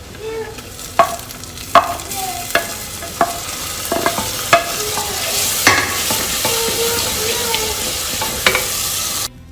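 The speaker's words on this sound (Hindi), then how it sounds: "हम इन्हें हिला लेंगे और अब हम इनमें ऐड करेंगे टमाटर।" Spoon stirring browning onions in a pot, with steady sizzle underneath and a series of sharp scraping knocks against the pot spaced about a second apart.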